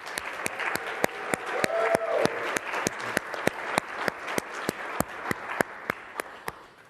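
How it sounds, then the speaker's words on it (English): An audience at a Qualcomm Snapdragon tech summit applauds with a crowd of claps, a continuous patter overlaid with sharp, evenly spaced loud claps close by. "Round of applause for Panos."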